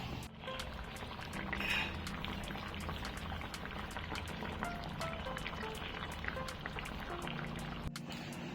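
Egg curry simmers in a pot, giving a continuous close bubbling with dense popping and crackling throughout.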